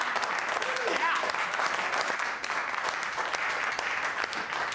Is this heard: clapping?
yes